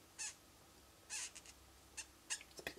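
Short, high-pitched squeaks from a blending pen dragged across acetate during a glimmer paper craft project, coming in several separate bursts of rubbing, some brief and some longer, fairly faint and close with no talking.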